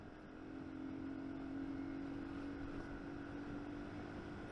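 A steady Junak 123 motorcycle exhaust drone heard from inside the rider's helmet, a constant low hum with wind noise around it, no speech.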